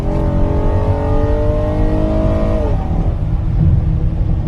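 A high-revving engine, talked about as a motor fit for a Honda Civic Type R, climbs steadily in pitch for nearly three seconds, then drops off and settles into a rough, loud idle, close up with no voices.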